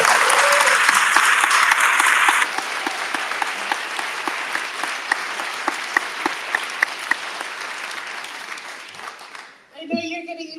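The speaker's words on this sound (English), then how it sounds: "Let's have one more round of applause for Dr." A lecture audience in Detroit applauds Dr. Ilan Pappe, loud and dense for a couple of seconds, then thinning into scattered claps that fade away before a short voice at the very end.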